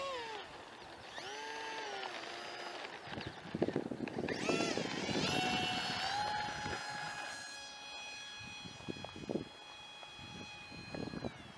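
The electric motor of a HobbyZone AeroScout RC airplane whines in flight, its pitch climbing and falling as the throttle changes. A voice is briefly heard under the buzz.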